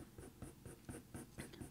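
Dark pencil strokes working short fur lines into paper, a steady series of quick scratchy scribbles repeating about every quarter second, close and faint with no talk.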